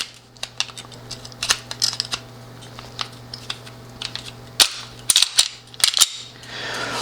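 Close, sharp metallic clicks and snaps come in an irregular series as a Glock 19-style clone pistol is put back together, growing louder and denser toward the end.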